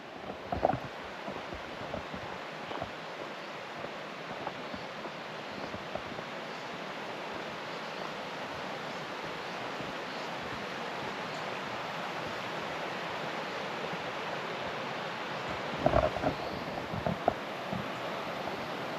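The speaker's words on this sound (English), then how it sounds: "Check out the creek down here." A forest creek flows below a paved forest road near Bethel Ridge, giving a soft, steady rushing wash that continues evenly throughout, with a couple of faint knocks and no talking.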